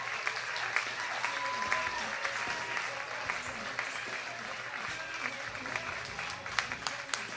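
An audience at a stand-up comedy show applauds steadily, a dense wash of clapping that continues without pause, with a few louder claps near the end.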